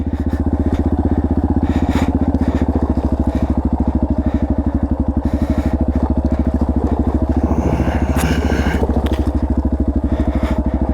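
A dirt bike engine idles steadily throughout on a downhill 4x4 OHV trail, a loud, close, continuous low throb with a crackling rumble and no talk.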